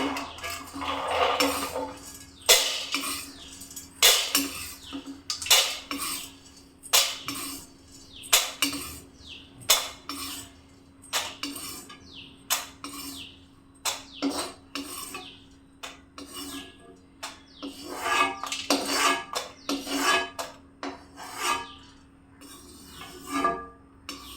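Ingredients dry-roast in a pan over medium heat, with repeated scraping and rasping strokes of a spoon against the metal and occasional clinks coming in irregular bursts, close and fairly loud with no talking.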